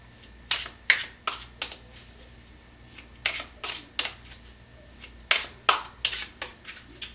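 Tarot cards are shuffled by hand in repeated quick riffling bursts, grouped in clusters of sharp flutters with short pauses between, close and clear with no talking.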